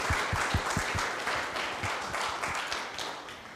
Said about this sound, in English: So let's give Judy a hand of applause.